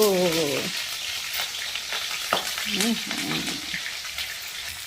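Red chillies frying in hot oil in a pan while preparing a homemade matar chaat: a steady loud sizzle with stirring clatter, under occasional voices.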